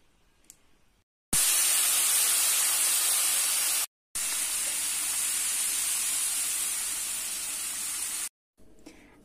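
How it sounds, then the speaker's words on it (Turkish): Hot sugar syrup poured onto roasted semolina for irmik helvası sizzles loudly in two long bursts of steady, broadband hissing, split by a brief pause, with quieter kitchen sounds before and after. "Şimdi ise azar azar şuradaki şerbetini dökeceğim."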